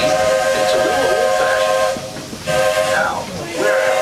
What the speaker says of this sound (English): we're traveling on pure steam power. This old locomotive is descended from the mighty trains that powered the golden age of steam